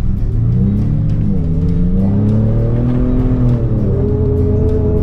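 A 2021 Ram TRX pickup engine revs hard and holds at full throttle, a loud, steady, rising roar with shifting pitch and no talking.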